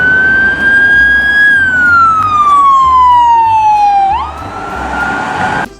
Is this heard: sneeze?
no